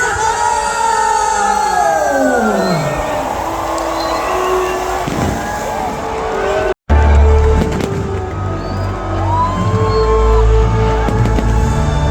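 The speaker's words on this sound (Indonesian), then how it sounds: "Kita bisa saksikan bersama kemegahan pesta kembang api pada malam hari ini" A loud fireworks display closing the Jakarta Fair at Kemayoran, with whistling rockets rising and falling amid crackling bursts and booms, a crowd murmuring throughout, one brief dropout midway.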